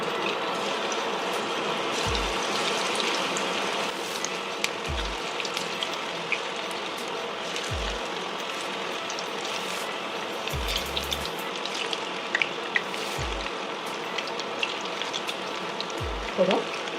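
Baby corn frying in hot refined oil, a steady crackling sizzle that runs throughout with a few soft low thumps, close and even, no talking.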